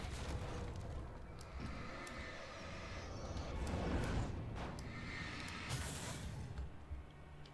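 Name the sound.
flashbang explosions in the video game Alan Wake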